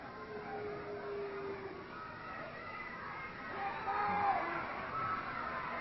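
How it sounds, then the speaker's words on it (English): A wrestling crowd yells a rhythmic chant of "Baldy" at a match between Buddy Rose and Art Crews, a dense roar of many voices that swells toward the end. "I'm sure you can hear this crowd"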